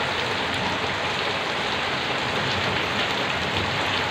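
Heavy rain from a Kalbaishakhi storm pours down in a dense, steady roar of drops hitting surfaces, loud and unbroken from start to finish.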